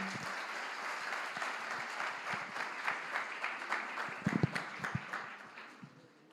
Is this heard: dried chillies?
no